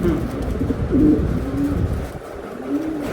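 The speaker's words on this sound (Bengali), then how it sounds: "এই যে নটটা ডাকতেছে অলরেডি" A male racing-club pigeon coos close by, a few low, rolling coos repeated over about three seconds against a steady background hum.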